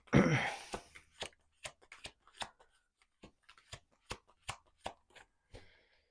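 Tarot cards are shuffled and drawn from a deck, beginning with a brief riffling burst, followed by a dozen crisp, close snaps and flicks spaced about half a second apart in a quiet room.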